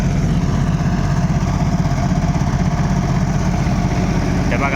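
A Sonalika Sikander tractor with a CRDI engine runs steadily at a well-digging site, its loud mid-pitched drone constant and close with no pauses.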